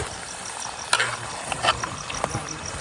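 Food sizzling and frying on an outdoor stove in the hills, a steady hiss with occasional clinks and scrapes of a small pot and utensil, close and moderately loud.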